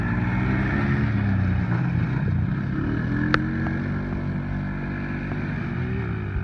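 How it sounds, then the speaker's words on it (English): A four-wheeler ATV engine drones steadily as it takes laps around a backyard, a continuous mid-distance hum with one brief sharp click partway through. "We got Joshua on his four-wheeler."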